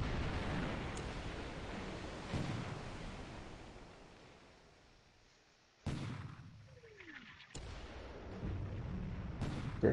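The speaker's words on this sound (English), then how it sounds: "we'll just try to take them out with their deck gun" A submarine deck gun fires in a War in the Pacific naval combat game, with a few sharp booming reports separated by pauses over a rolling ocean-like rumble.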